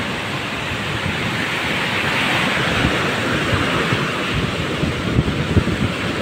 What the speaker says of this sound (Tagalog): ganyan kalaki yung alon dito ngayon